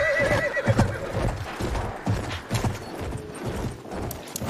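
Cavalry horses in a Battlefield video game neigh and whinny over a steady clatter of galloping hooves, with repeated calls rising above the loud, continuous game noise.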